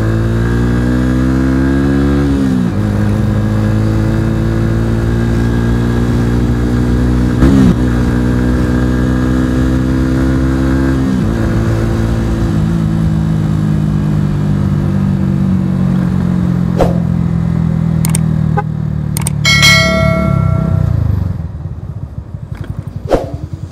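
A motorcycle on a group Sunday ride to Puncak Kabun accelerates hard, its engine note climbing through several gear shifts with brief dips, loud and close, ending with a few sharp clicks and rattles.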